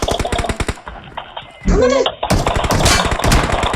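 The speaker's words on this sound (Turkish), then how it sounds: "Ulan beni vurdu." Rapid bursts of video game gunfire crackle in quick succession, loud and close, with a player speaking excitedly between and over the shots.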